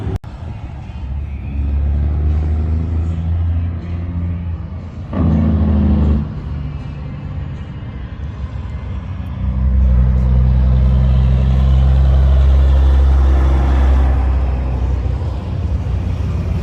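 Cars and trucks pass on a main highway through Custer, South Dakota during the Sturgis motorcycle rally, heavy low rumbles swelling and fading as several vehicles roll by close and loud.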